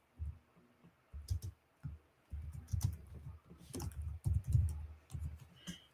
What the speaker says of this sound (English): I was doing just fine typing.